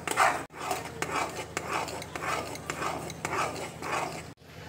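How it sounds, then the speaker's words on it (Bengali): Semolina dough being stirred in a pan as it absorbs water, with rhythmic scraping and knocking of a spoon against the pan, close and steady, broken by short pauses. "খুব ভালো করে নেড়ে যেতে হবে"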